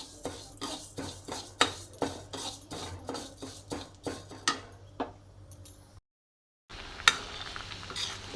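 Mung dal stirred and fried in a pan, with a steady run of metal spoon scrapes and clinks against the pan over a low sizzle, a short gap, then one more sharp clink.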